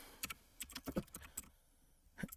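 Scattered key presses on a computer keyboard as code is typed, quiet and close, in short irregular bursts with brief pauses and no talk.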